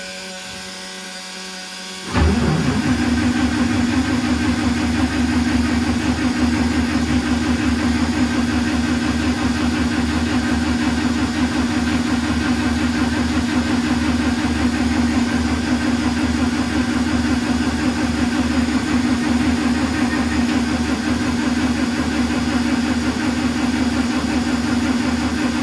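A 1953 Dodge M37 truck engine cranks on its starter, a steady loud mechanical churn that begins abruptly after a brief quieter lead-in and continues unbroken for over twenty seconds, without catching.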